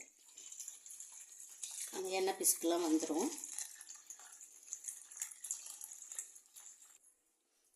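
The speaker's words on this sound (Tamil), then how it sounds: "தனியாக ஒரு கிண்ணத்தில் இந்த மாதிரி வச்சுட்டு கொஞ்சம் வெது வெதுப்பான தண்ணி ஊற்றுங்க" Lukewarm water is poured from a tap into a bowl for soaking an oily glass bottle: a brief close splashing gush, then a lighter trickle fading out, while someone speaks.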